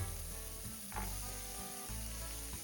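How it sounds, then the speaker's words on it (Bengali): Onion and mixed winter vegetables frying in a spoonful of butter in a pan that previously held cooked chicken, a steady close sizzle with a few stirring scrapes and no voices. "এবার ওই চিকেন রান্না হয়ে যাওয়া প্যানের মধ্যেই আরও এক চামচ বাটার দিয়ে অন্যান্য সবজিগুলো দিয়ে দাও প্রথমে দিয়ে দাও পেঁয়াজ"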